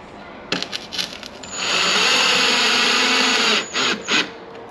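A power drill drives screws while a conversion kit is fitted to a Cadillac CTS-V Sport, with a few clicks and taps, then a sustained whirring run of about two seconds and short bursts at the end.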